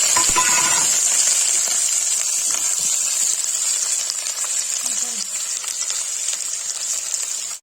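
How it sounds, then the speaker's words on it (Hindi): Potatoes and onions frying in a pan, a steady bright sizzle hissing continuously throughout with small crackles and pops, close and fairly loud. "देखिए गाइस प्याज इसमें आलू मिला देंगे।"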